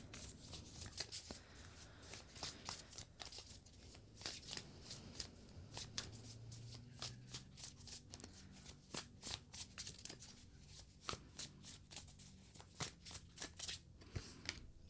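Tarot cards being shuffled by hand, a run of crisp riffling snaps and soft slides coming in irregular bursts, close and fairly quiet, with no one talking.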